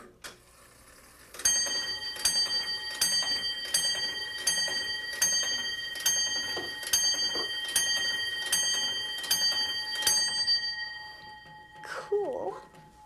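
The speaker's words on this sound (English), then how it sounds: "This is an original grandfather clock from the 1700s, and it doesn't tell time anymore," An antique 1700s grandfather clock, no longer keeping time, chiming in a Bucks County vacation home: about a dozen evenly spaced ringing strikes with a sustained metallic tone, close and clear, then a brief voice at the end.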